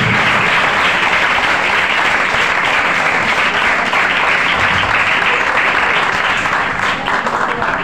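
A church congregation applauding together at a Christian service, a loud, dense and sustained wash of hand-clapping that fills the room and stays steady until it thins slightly at the end.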